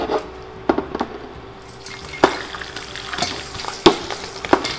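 A third of a cup of popcorn kernels pops in a covered pot for caramel popcorn: sharp, scattered pops ring out at irregular intervals over a faint hiss, close and fairly loud against quiet gaps.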